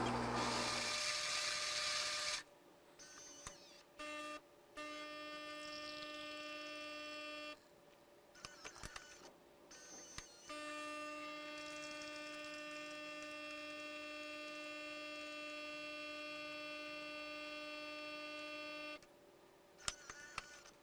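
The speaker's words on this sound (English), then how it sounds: "it's going to grind and brew our coffee, pause for a second, and then dispense hot water" A Gaggia Cadorna espresso machine grinds and then brews, its faint whining motor and pump hum starting and stopping in several stretches, with brief pauses between runs.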